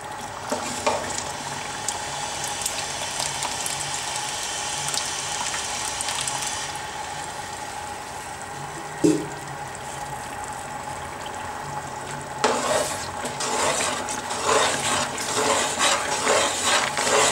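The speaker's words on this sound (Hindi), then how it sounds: "जब तक हमारा अमेज़ा जो है वो देसी घी में भुन रहा है" A supari mixture roasts in desi ghee with a steady crackling sizzle, quiet for a stretch and then louder with stirring scrapes near the end, close and without talking.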